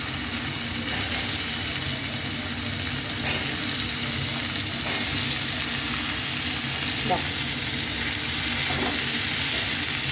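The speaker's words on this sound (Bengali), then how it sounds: "এবার আমি ভাজার সবজিটা দিয়ে দিলাম" Cut vegetables fry in a pan, giving a continuous loud sizzle and crackle with occasional stirring scrapes and brief clinks, heard alone without talk.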